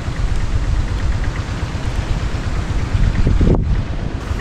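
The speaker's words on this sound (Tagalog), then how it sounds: "Sa hangin na tulak sa alon sa dagat no?" Strong wind roars steadily across open sea during a fishing trip, mixed with the wash of waves against a boat, loud and continuous with a brief gust peak near the end.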